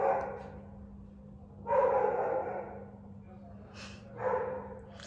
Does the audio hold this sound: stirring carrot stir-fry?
no